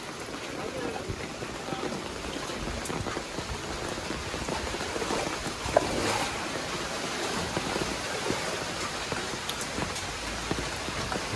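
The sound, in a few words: heavy rain over a flooded village street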